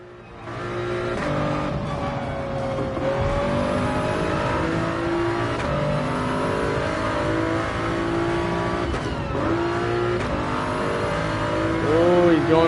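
Racing car engines in Gran Turismo 7 at the Red Bull Ring, with a Shelby GT350 among the field, roaring and revving steadily as cars jostle and overtake, with pitch sweeping up and down through shifts, loud and continuous throughout.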